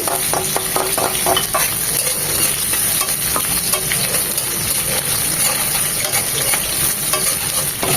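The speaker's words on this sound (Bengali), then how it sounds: "এটাকে এক মিনিট ভেজে নেব" Chopped ginger fries in oil in a pan for Chinese-style beef chow mein, a loud steady sizzle close up with scraping stirs and light utensil taps throughout.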